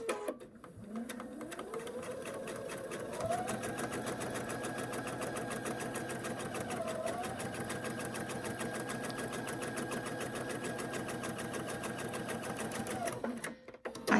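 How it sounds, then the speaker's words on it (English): A sewing machine stitches a seam a quarter inch down the side of same-size fabric squares, a steady rapid hum that runs nearly unbroken and close for most of the stretch before stopping. "now we're going to stitch 1/4 of an inch down each side"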